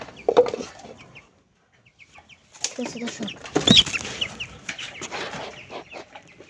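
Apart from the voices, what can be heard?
chicken clucking while being caught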